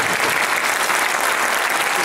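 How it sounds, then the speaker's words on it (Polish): A live acoustic concert audience claps, producing a dense, even burst of applause that holds steady and loud for its full length, with no talking over it. "Wielkie brawa."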